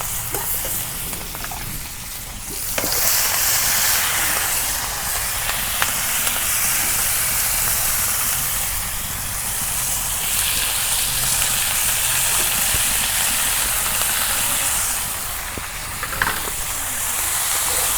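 Cumin seeds tempering in hot oil for a village-style cabbage fry, a steady broad hissing sizzle that runs continuously close by, with faint clinks of a utensil stirring the pan.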